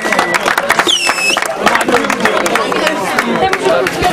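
Spectators at a village sports competition award ceremony clap steadily in a dense, continuous patter, with a brief whistle early on and voices chattering underneath.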